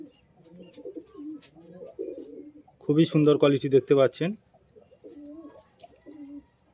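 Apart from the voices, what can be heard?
pigeons cooing in a loft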